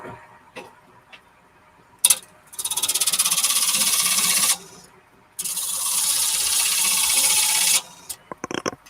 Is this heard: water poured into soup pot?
no